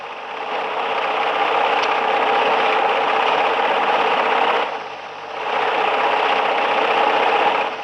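A sewing machine stitches cloth in a steady, continuous mechanical whir, briefly easing off near the middle before running on again, close and alone without talk.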